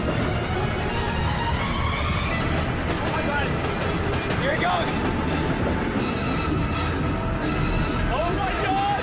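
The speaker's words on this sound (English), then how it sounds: "The train's coming!" A train roars in as the finale of a Mario 64 parody stunt, a steady loud rumble that lasts throughout while excited voices shout over it.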